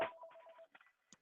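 A phone rings faintly during an interview, a short series of soft electronic tones with a few brief gaps, quiet and alone.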